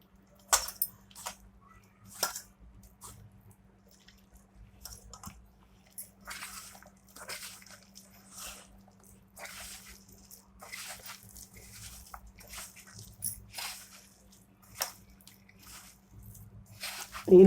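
Bitter gourd pakoda batter being mixed by hand with a little water, giving close, wet squishing and squelching in irregular bursts over a steady low hum, with no talk.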